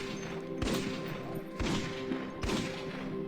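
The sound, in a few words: pistol gunshots in video game Cataclysm: Dark Days Ahead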